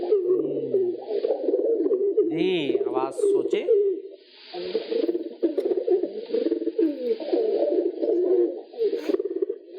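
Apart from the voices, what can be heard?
pigeon cooing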